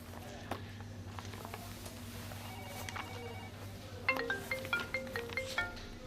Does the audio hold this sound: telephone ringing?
yes